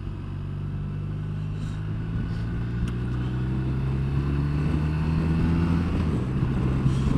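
A BMW R1250RT motorcycle on a test ride gives a low, steady engine drone that slowly rises in pitch under wind rush, heard continuously with no talking.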